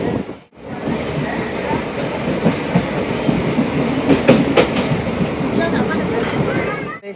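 A train near Thanjavur, India, rumbles along the rails with steady clattering wheels and a broad roar that holds loud and close throughout.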